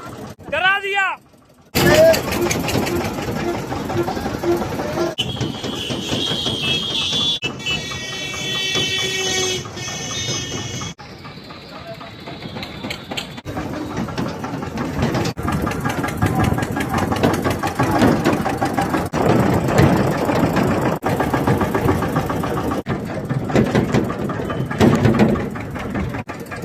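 A tractor engine driven hard on a village road, a steady loud mechanical drone running throughout, with people talking over it.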